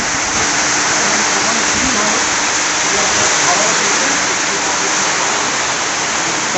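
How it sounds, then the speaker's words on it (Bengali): Heavy rain pours down at a roadside dhaba near Chapani halt in Alipurduar, with motorbikes left outside getting soaked. It makes a dense, unbroken roar that stays loud throughout. "তুমুল বৃষ্টি পড়ছে"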